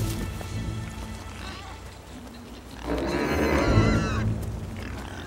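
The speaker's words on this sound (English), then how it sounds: "The noisy wild pig continued to roam the forest in search of food." A noisy wild pig roams a Bavarian beech and oak forest, with low grunting and rooting noises swelling louder midway through, over a background of forest ambience.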